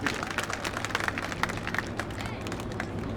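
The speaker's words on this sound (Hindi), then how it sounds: "जोरदार तालियों से स्वागत करेंगे सभी लोग।" Audience at a mass wedding ceremony in Bharatpur breaks into dense, continuous applause, many hands clapping at once with faint crowd murmur underneath, sustained evenly across the whole stretch.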